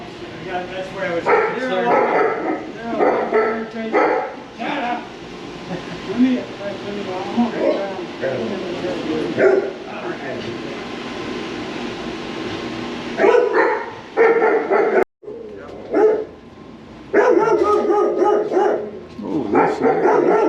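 Dogs at a radio station site bark repeatedly, loud and close, in irregular bursts with brief gaps, while people talk over and between the barks.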